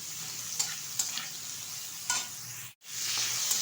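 Sliced ridge gourd sizzles steadily in a hot pan, broken by a few scraping stirs and a brief dip to near silence before the frying hiss resumes.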